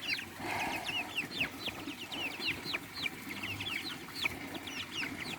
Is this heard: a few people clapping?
no